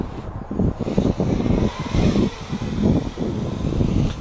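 A quadcopter drone hovering at under a quarter throttle, its motors giving a steady, fluttering whir with rhythmic surges, fairly close and loud.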